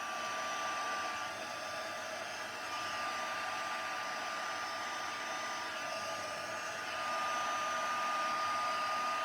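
Heat tool blowing steadily to melt embossing powder on a handmade card, a constant close airy whoosh with a faint high whine and no talking.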